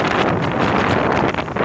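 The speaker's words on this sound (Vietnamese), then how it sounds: "Trời gió quá." Strong wind roars steadily against the microphone on a coastal road from Tiến Thành toward Mũi Kê Gà in Bình Thuận, a dense, continuous rush with no talk.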